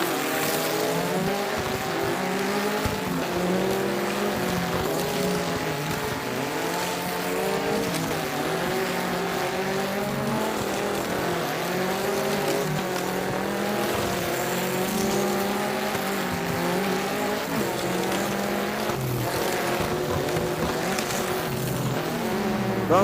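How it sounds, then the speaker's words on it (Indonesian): Motorized diecast toy cars race on a track with a continuous buzzing, whirring motor drone whose pitch wavers and climbs as they speed along, steady and fairly loud throughout. "Balapan kedua Mario versus Gavin"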